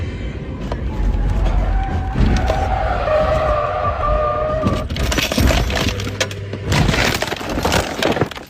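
A car crashes and flips over twice: tires squeal and skid under a steady engine roar, then a clattering burst of impacts and breaking glass, close and loud, with faint voices underneath.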